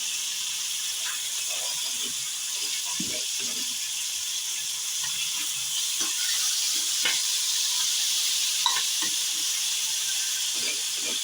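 Ginger, garlic and green chili paste with salt and curry leaves hits a hot pan for a sweet-sour white kadhi, giving a steady close hiss and sizzle with scattered stirring clicks and no talk.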